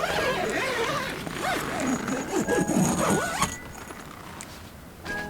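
A YKK zipper on a rooftop tent is drawn closed in a few uneven, rasping pulls, close and fairly loud, then stopping before a brief quieter scrape at the end.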